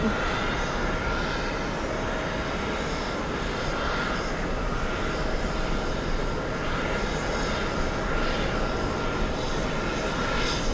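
Boeing 787 Dreamliner airliner at JFK airport, a loud, steady broadband jet roar that holds evenly throughout without talk.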